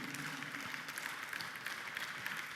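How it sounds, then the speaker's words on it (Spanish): A church congregation at a Spanish-language service applauds with a soft, steady wash of clapping, faint and distant throughout. "Un fuerte aplauso a aquel que vive."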